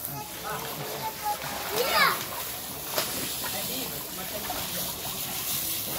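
Water splashes and sprays from a garden hose while children chatter and play nearby, voices mixing with the steady wash of water.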